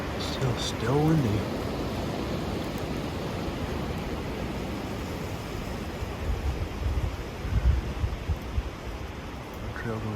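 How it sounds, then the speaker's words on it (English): Steady wind rushes outdoors, buffeting the microphone with low rumbling gusts; a brief voice-like sound appears early on. "Still windy."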